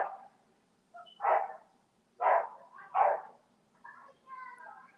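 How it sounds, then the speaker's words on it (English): A dog barks several times, sharp separate barks spaced about a second apart and ending in softer whimpering yips, heard at a moderate distance with no talk over it. "there's a dog barking"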